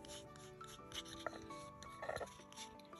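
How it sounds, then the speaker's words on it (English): Silver paint is rubbed by hand onto a hand-painted earring, producing faint, close, intermittent soft rubbing and scraping strokes with small bursts of friction and no talking. "You just kind of rub it in like that."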